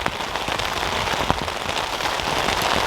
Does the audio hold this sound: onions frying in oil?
no